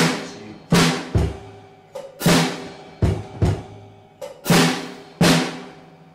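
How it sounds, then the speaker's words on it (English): Piano chords struck in a lilting swing rhythm, loud attacks each ringing out and fading before the next, with no voices. "So if I was playing this actually in swing beat, this would sound like this."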